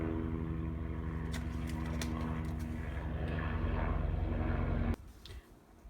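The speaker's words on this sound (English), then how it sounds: "So see, now there's helicopter." A helicopter flies overhead: a loud, steady engine drone with a pulsing rotor-like beat fills the air, then cuts off abruptly, leaving quieter background noise.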